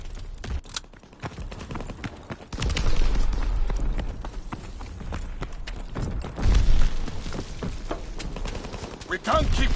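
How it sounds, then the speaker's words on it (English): Rapid gunfire in the video game Call of Duty WW2 multiplayer, dense bursts of shots and heavy booms rolling continuously, loud and close. "We have tactical advantage. Keep firing!"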